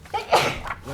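One quick sneeze in a town zoning board meeting room, a brief burst near the microphone with a voice nearby.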